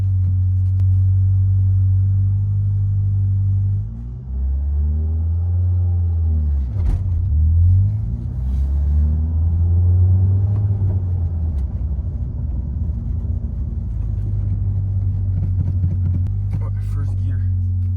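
A Ford Focus with a manual gearbox is being driven, its engine rumbling steadily and loudly from inside the cabin, with the revs rising and falling midway through.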